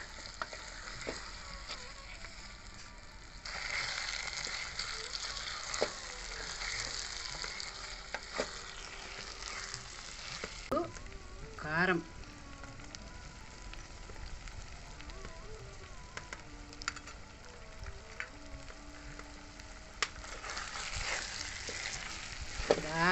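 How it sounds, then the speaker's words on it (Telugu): Konam fish pieces frying with onion, turmeric and green chilli: a quiet, steady sizzle running throughout, with occasional scraping knocks of a spoon stirring the pan. "బాగా ముక్కలకి పట్టేలాగా తిప్పి ఇక ఫ్రై అవ్వనివ్వండి"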